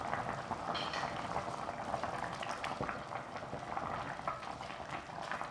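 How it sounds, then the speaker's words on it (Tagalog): Lechon paksiw bubbling at a steady boil in a pot, a dense, continuous burble of popping bubbles and simmering liquid, close and fairly loud with no talk. "So at yan kumukulo ng mabuti."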